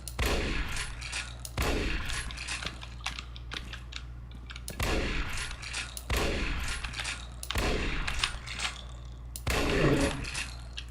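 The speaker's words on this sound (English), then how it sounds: "Took a lot of shots." Loud, sharp gunshots ring out in a Doom-like Unreal Engine game, about six single booms spaced a second or two apart, each with a short decaying tail over a low steady hum.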